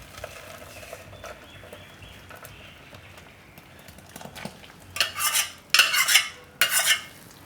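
Almond milkshake, just cooked on the stove, poured from the hot pan into another vessel to cool, with bright clinks and scraping bursts of metal utensils building over the last few seconds.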